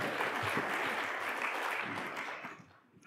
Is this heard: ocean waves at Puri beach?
no